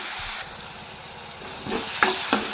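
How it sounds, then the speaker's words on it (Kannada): Food frying in butter in a pan gives a soft, steady sizzle, close by. It swells into louder crackling bursts and stirring scrapes toward the end, with no voices. "ಇದು ಫ್ರೈ ಆಗ್ತಾಯಿದೆ. ಸ್ವಲ್ಪ ಚೆನ್ನಾಗಿ ಫ್ರೈ ಆಗಲಿ."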